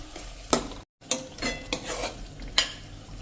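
Tomato puree from two medium tomatoes hits a hot pan for a cauliflower and peas curry and sizzles while being stirred, with sharp bursts of spoon-on-pan scraping and a brief dropout partway through.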